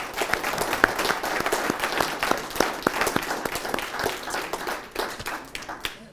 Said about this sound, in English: please, one more time, a round of applause for our panelists